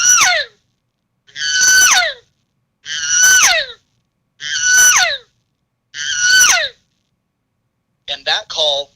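A human voice imitates an elk cow's estrus scream call, giving five drawn-out, high, squealing screams at regular intervals, followed by a quick burst of shorter chirps, loud and close with silence between.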